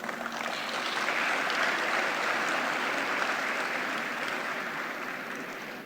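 An audience at a university gathering with Prime Minister Anwar Ibrahim breaks into dense, sustained applause that swells quickly and then slowly fades over several seconds. Many hands clap at once in a broad wash of sound, with no voices over it.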